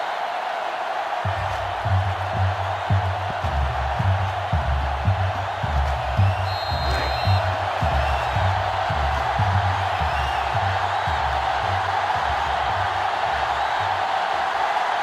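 A stadium crowd in the NCAA Football 2005 video game roars steadily throughout a college football matchup between Florida and Clemson, a loud continuous wash of cheering with rhythmic chanting pulses and no talk over it.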